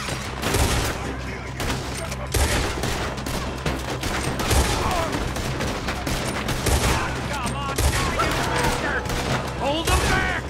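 Shootout in Red Dead Redemption 2 with heavy gunfire: repeated loud shots and overlapping volleys, some near and some farther off, carrying on throughout amid shouting.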